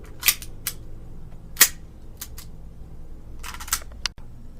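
Gas blowback airsoft pistol firing a handful of sharp, snappy shots at uneven intervals, each a crisp click-pop. The last is weaker because gas is running low, and the room is otherwise quiet.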